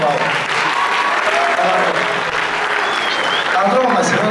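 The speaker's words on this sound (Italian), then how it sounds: "c'è un applauso forte alla tromba, per favore" Live concert audience applauding for a trumpet player, a dense burst of clapping and cheers that stays loud and steady throughout.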